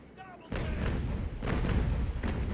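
Cannons firing in the naval battle game Ultimate Admiral Age of Sail, a few heavy booming blasts in quick succession, close and loud, with a low rumble between shots.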